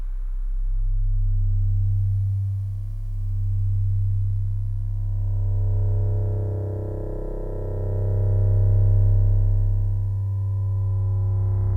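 Sample played back very slowly through a Mutable Instruments Beads granular module, producing a deep droning hum with slowly swelling, wavering tones that rise and fall over about twelve seconds.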